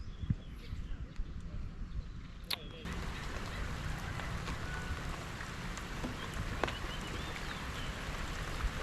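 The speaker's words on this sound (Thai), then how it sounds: "นี่ฝนตกแล้ว" Steady rain falls outdoors beside a fishing pond, a dense broadband patter that continues without a break and gets a little heavier after the first few seconds, with faint scattered sounds in the background.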